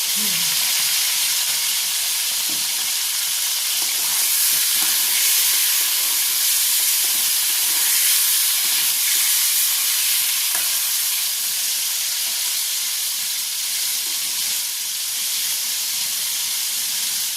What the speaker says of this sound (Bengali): চিকেনটা যতক্ষণে ভাজা হবে